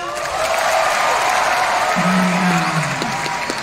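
A big rally crowd at a convention centre claps and cheers, a broad roar of applause with a few distinct whistles or shouts rising near the end.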